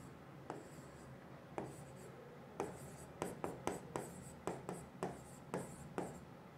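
A pen scratching out a chemical equation by hand, with short bursts of writing strokes and taps at an uneven rhythm, close and fairly quiet.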